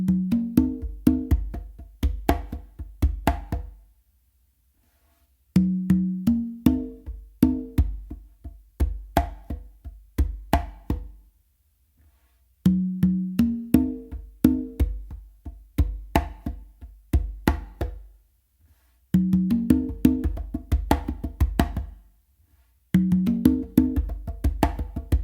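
Congas playing a funk a caballo fusion pattern, close and loud, in four-to-five-second bursts of steady rhythmic hand strokes separated by brief silences, with no talking.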